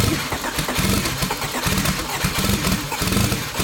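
Honda Civic with a compound twin-turbo D16 engine starting for the first time, running rough on old gas with a loud, close, rapid chugging idle that pulses steadily throughout.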